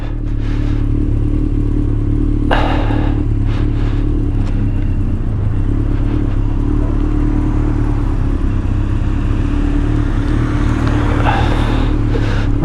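Yamaha XJR 1200 or Suzuki GSX 1400 engine rumbles steadily while riding gently, a loud low drone close to the rider with wind noise and a few brief clattering bumps.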